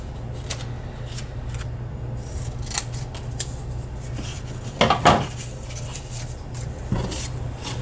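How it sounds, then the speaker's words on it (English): Scissors cut out a paper letter for dollar-store summer decor, heard as soft, close snips and rustling paper over a steady low hum, with a couple of louder crunchy cuts. "I'm gonna have to cut out another one."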